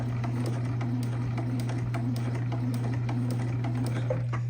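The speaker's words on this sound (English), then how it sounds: "I want to back stitch just to give that a little extra support" A sewing machine back stitches the hem of an envelope pillow cover, its motor humming steadily under a quick, even run of needle ticks, close and continuous.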